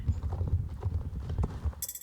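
Horse hooves clip-clop in the online horse game Star Stable Online, a quick steady run of muffled close footfalls that ends with a brief bright burst at the close, with no talk.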